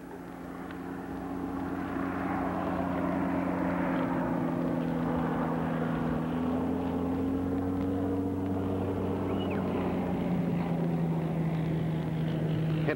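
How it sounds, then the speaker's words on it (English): Propeller airplane engine droning steadily for the whole stretch in an outdoor wilderness setting, a continuous low hum that swells slightly as if passing overhead, with no talking. "It was good to see the airplane."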